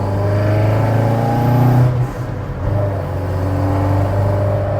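Rebuilt Zetec-powered Mk2 Ford Escort engine revving nearby, a loud throaty hum that climbs, holds high, drops briefly and then settles into a steady rumbling idle.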